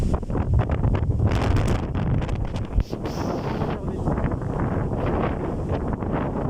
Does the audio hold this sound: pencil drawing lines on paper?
no